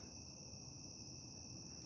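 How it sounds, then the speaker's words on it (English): Crickets chirp continuously in a quiet night, a thin, steady high-pitched trill at low volume with nothing else going on. "I hear some crickets."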